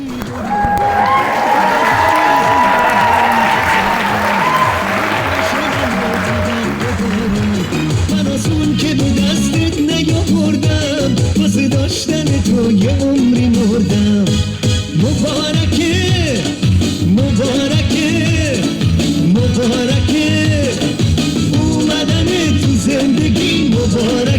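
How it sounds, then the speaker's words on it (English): A wedding crowd bursts into loud, sustained applause and cheering with whoops and shouts, dense and close throughout, with excited voices running through the clapping. "Crowd cheers."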